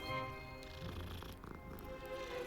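Low, steady purring from a cat being petted in Hogwarts Legacy, a soft continuous rumble holding for a few seconds under a layer of background game music, with no talk.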